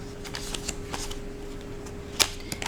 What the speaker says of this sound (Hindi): जो मैंने आपके लिए यहाँ पर टैरो कार्ड्स निकाले हैं